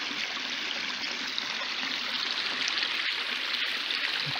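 A forest stream flows steadily down through a littered, debris-choked woodland in June, its broadband rushing and trickling water sustained and fairly close throughout, with no talking.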